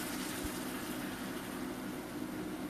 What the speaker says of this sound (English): So we're going to add in our beer.